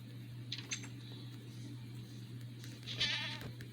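A goat in Minecraft Bedrock Edition bleats twice, a short call followed by a longer, louder one, faint against a low steady hum.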